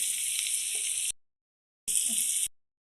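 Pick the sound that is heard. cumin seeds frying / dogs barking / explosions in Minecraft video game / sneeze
cumin seeds frying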